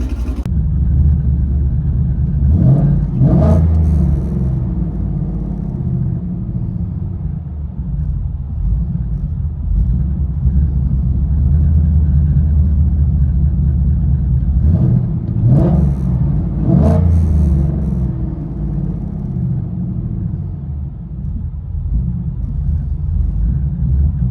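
A 2015 Ford Mustang GT with headers and a Corsa Xtreme exhaust idles with a deep, loping rumble, broken by two pairs of sharp, loud throttle blips near the start and later on.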